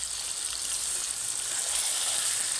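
Chicken frying in a pan with tomato, onion, ginger, garlic and green chilli, a steady close hiss and bright sizzle throughout with no talk.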